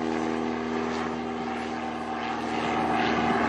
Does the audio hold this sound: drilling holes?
no